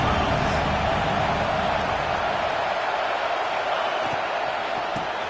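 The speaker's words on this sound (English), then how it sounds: "listen to this crowd noise. This stadium is vibrating" A packed football stadium roars with a dense, continuous wall of crowd noise, loud and unbroken throughout, with no distinct voices standing out.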